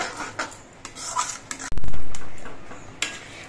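A ladle's back mashes tomato chutney in a pan, giving scattered close scraping taps, then a loud burst of bubbling that slowly fades, and one more clack at the end.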